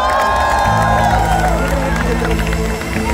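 A large festival crowd applauds and cheers for a band, a loud, dense wash of clapping and shouting with music and a voice mixed in.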